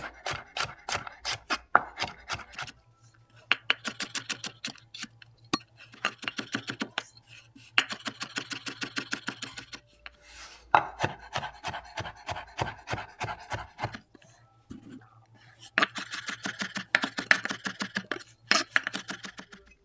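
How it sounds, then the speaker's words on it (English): A knife chops garlic for a curry beef stew, making bursts of quick, rhythmic taps on a cutting board separated by short pauses, close and fairly crisp, with no one talking. "Now we chop the garlic."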